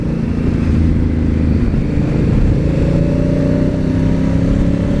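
A Honda CRF1000L Africa Twin motorcycle with a manual gearbox rides at steady speed, its engine droning loud and continuous with a low rumble and a slight rise in pitch as revs climb, mixed with wind noise.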